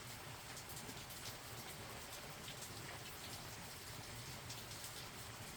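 Rain falls outdoors in a steady, dense hiss that stays even throughout, moderately loud and unbroken, with no voices.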